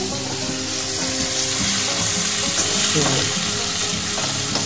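Potatoes fry in a pan with a loud, dense, continuous sizzle, while stirring adds scraping and shuffling close by; no talking.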